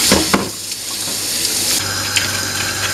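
Vegetables are rinsed under a running kitchen tap, a loud, steady rush of water with brief shifting splashes as the produce is moved through the stream.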